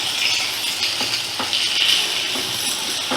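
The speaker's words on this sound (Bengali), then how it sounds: "একটু লাল লাল করে ভেজে নেব" Sliced onion frying over a medium flame in a pan, a steady close-up sizzle with faint crackles and occasional stirring scrapes, with no talking.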